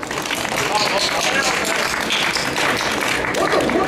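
Applause congratulating a translator of Marsilio Ficino at a Platonic studies conference, steady and fairly close-sounding clapping that continues throughout, with some voices underneath.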